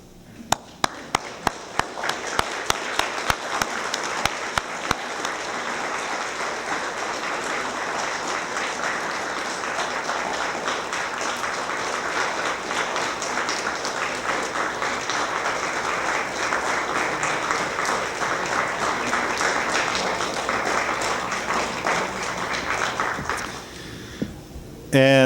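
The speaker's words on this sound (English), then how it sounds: "would you please stand and give them a round of applause?" An audience breaks into applause after a few scattered early claps, building into long, dense, steady clapping that lasts over twenty seconds before cutting off abruptly.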